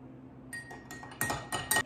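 A cocktail being stirred in a metal shaker with a spoon, giving a few quick, bright metallic clinks and rattles that grow louder toward the end, close and quiet with no voices.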